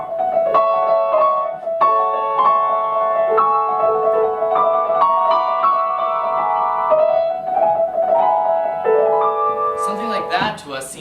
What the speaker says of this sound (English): most of you would relate more to Liszt's version of bird songs